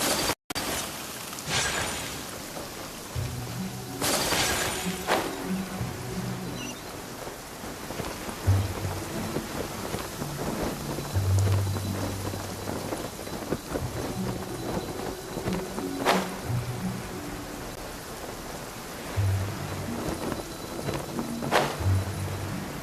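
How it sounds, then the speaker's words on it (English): Rain pours steadily in a Genshin Impact game scene, with several rolls of thunder, some near and booming, others distant, and dull low thuds scattered through the downpour. "Let us find shelter from the rain."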